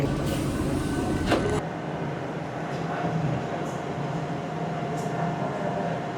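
A steady rumbling drone inside a moving Vande Bharat sleeper train fills the space, loud and continuous, with a sharp shift in noise partway through.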